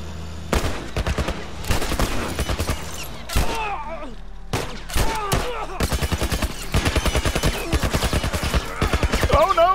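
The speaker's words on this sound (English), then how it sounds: "In a hail of gunfire!" Rapid bursts of gunfire in The Last of Us Remastered, loud and close, with volleys of shots broken by brief pauses and a dense stretch of fire toward the end.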